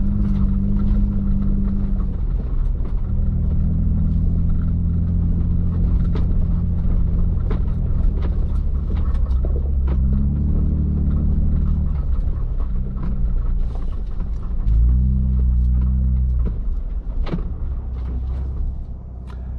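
Ford Bronco Raptor climbing an off-road trail in two-wheel drive, its engine giving a steady low rumble that swells in throttle surges, with faint knocks and rattles over the terrain.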